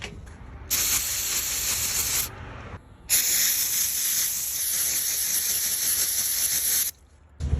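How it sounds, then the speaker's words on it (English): Mass airflow sensor cleaner sprayed from an aerosol can onto wiring outdoors, two long hissing bursts with a short pause between them, loud and close, with no talking. "I'm gonna go outside and hit it with some mass airflow sensor cleaner because it is non-residual."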